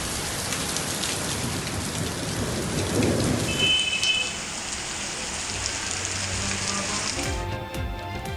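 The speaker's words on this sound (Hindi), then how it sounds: "लोरालाई और गिरदोनवा में भी गरज चमक के साथ बरसात।" Steady rain falls during a thunderstorm in Quetta, Balochistan, in the season's first winter rain, with a constant close hiss of drops on surfaces and low rumbling thunder building in the middle before the downpour eases.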